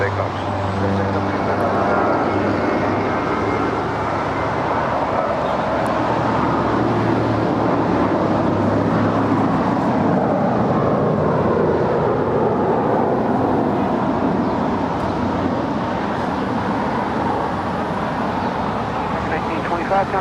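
Qatar Cargo Boeing 777 departing on runway 25 right at LAX, a steady, loud, broad roar that holds without a break from start to finish.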